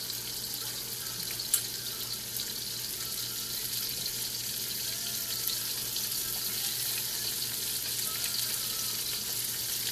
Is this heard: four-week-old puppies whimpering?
no